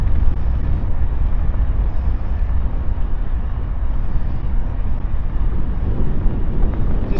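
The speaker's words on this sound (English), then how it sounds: "it's windy today" Strong wind buffets an outdoor microphone before a mixed-surface bike ride near Texas Motor Speedway, a steady, loud, low rumbling roar with no pauses throughout.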